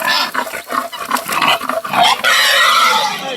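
Pigs in a pen on a farm squeal, grunt and snort loudly at close range, a dense, overlapping run of calls with no talk over them.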